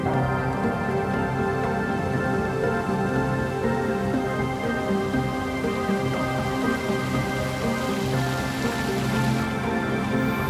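Steady rainfall in the video game Shape of the World, a dense continuous hiss of drops on surfaces layered with sustained tonal ambient music, even and unbroken throughout with no voices.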